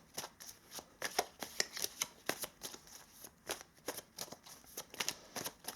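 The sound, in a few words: shuffling tarot cards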